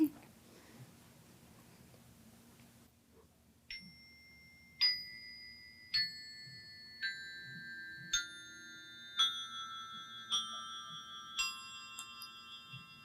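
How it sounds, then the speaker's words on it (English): Classroom bells are struck one after another in a slow sequence of notes, each chime lingering, with faint background hum and a little voice early on. "now I'm going to have you play the bells"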